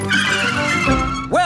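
Brakes on a child's bicycle screech in a short skid on a cartoon road, a loud squeal with a rising whine near the end, set against steady background noise.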